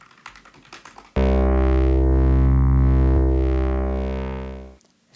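Wavetable synthesizer in Strudel, a sustained rich buzzy tone with many harmonics and a slow wavering timbre, loud and steady for several seconds before fading out, preceded by soft keyboard clicks.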